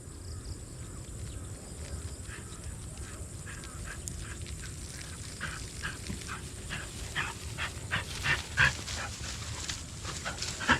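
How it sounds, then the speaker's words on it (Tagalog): Dogs bark repeatedly in the distance near an onion field during harvest, the barks growing more frequent and louder toward the end, over a steady outdoor background. "May aso po pala."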